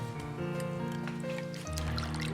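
Soaked lean pork is rinsed in water in a kitchen, giving a close, continuous trickling and splashing sound with steady faucet flow and a shift in tone partway through, without speech.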